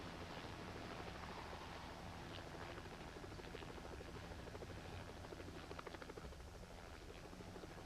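A Coast Guard rescue helicopter hovers during a hurricane flood rescue hoist, its rotor roar a loud, steady, broadband wash that lasts throughout, with no voices.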